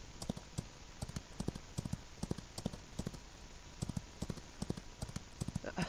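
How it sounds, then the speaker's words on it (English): A horse gallops in the Outlaws of the Old West video game, its hooves beating a steady, rapid clip-clop rhythm, soft and moderately distant throughout. "He's still galloping."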